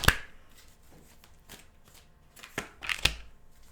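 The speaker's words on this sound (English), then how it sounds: "Let's pull 3 cards into how they're feeling." Tarot cards are shuffled and drawn, giving soft, close papery riffles and a few sharp flicking snaps as cards are pulled, scattered over a few quiet seconds with no voices.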